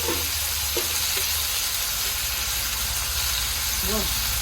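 Pieces of chalta fruit fry in a pan with a loud, continuous sizzle and hiss, a faint voice and occasional stirring under it.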